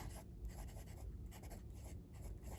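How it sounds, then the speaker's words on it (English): A Jinhao X159 fountain pen with a fine steel number 8 nib scratches softly across slightly toothy paper, a faint close rhythm of light strokes and brief pauses with no talking. "So we'll just do a quick writing sample with it here, just so you can see it in action."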